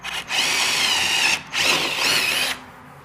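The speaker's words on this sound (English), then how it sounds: "we're gonna run our drill bit and drill a hole there" A power drill bores a hole in the front bumper of a 2022+ Subaru WRX to fit a Flow Designs front splitter: two loud, sustained whining bursts, each about a second long, with a brief pause between them, close up.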